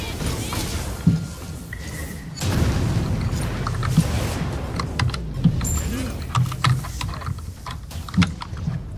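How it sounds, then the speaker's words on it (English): Rapid, loud keyboard mashing during Smite gameplay, dense irregular clacks and thumps close to the mic, with game sounds and occasional voices mixed in. "Keyboard mash is real."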